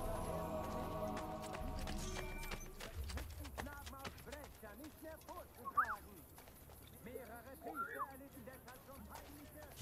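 A horse gallops in the Assassin's Creed Brotherhood video game, a steady rapid clip-clop of hooves running continuously beneath someone talking over it.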